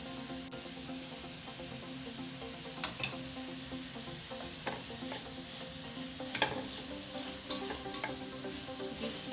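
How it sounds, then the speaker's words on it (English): Fried rice with eggs and vegetables being stirred in a pan: a constant close sizzle broken by repeated scraping clicks of the utensil against the pan at an uneven pace, with no voices. "give everything a stir"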